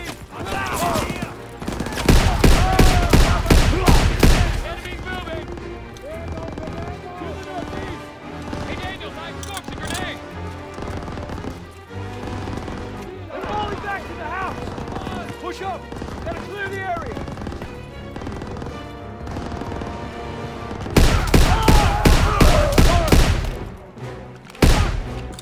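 Heavy rapid gunfire in the World War II shooter Call of Duty: WWII, with dense bursts of automatic rifle fire at the start and end and scattered shots in between, loud and close, mixed with someone talking.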